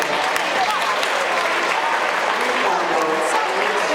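An audience claps continuously at the EKKA 2016 dog show while exhibits lead out of the ring, a full, even wash of applause from start to finish with some crowd noise mixed in.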